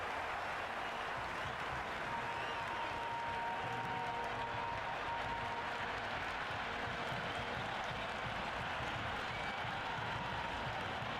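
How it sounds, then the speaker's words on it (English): A large crowd in a cricket video game match roars and claps continuously, a dense steady wash of cheering and applause with no pauses. "The crowd are really getting quite raucous."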